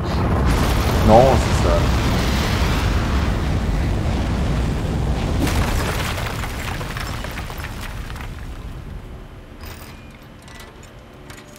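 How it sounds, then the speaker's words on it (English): A rocket lifts off in the video game Aperture Desk Job, a deep, loud roaring rumble that swells at ignition and then slowly fades over several seconds, with a brief exclamation from a voice near the start. "We have liftoff."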